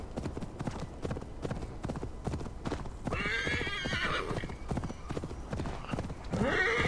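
A horse in Assassin's Creed Valhalla gallops with a rapid, steady clip-clop of hooves, then neighs loudly twice, the whinnies rising over the running hoofbeats.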